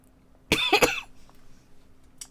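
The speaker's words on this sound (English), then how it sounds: "This cough" A single short cough from a person, close and clear, followed by quiet room background.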